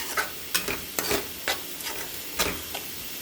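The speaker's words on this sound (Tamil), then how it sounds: "நல்லா வதங்கட்டும் ஒன்றோட ஒன்று நல்லா இந்த அளவுக்கு வதங்கிடுச்சுமா" Masala with coriander powder being sautéed in a pan for egg thokku: close, rhythmic spatula scrapes and knocks, about two a second, over a soft steady sizzle.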